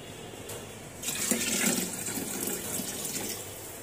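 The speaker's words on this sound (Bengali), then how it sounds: "আর একটু পানি দিব।" Water pours from a tap-like stream into an aluminium pot while biryani is being cooked, a steady splashing rush that starts abruptly and keeps flowing close by with no voices.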